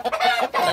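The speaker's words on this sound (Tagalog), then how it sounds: "Dati, guys, dalawa lang manok ko dito" Backyard chickens kept for breeding cluck in a close, busy run of short overlapping calls with no talking.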